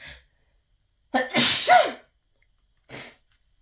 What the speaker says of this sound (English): I had no sneezes before I started this reading and now I'm sneezing